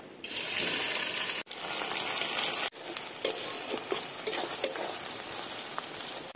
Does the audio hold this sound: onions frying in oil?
yes